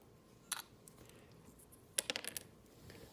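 Cardboard chits drawn from a cup during a tabletop wargame of the Ardennes: quiet, brief clicks and rattles, one short cluster early and a denser flurry of small clatters in the middle, otherwise near silence.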